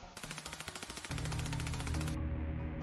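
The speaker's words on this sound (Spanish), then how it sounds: "Pues me han disparado." Rapid automatic gunfire cracks in a quick burst in The Darkside Detective, followed by a sustained loud blast of noise with a low rumble that abruptly thins out.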